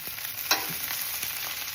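Steak and onions frying in a skillet: a steady, close, even sizzle with one brief louder spit of fat partway through, no voices.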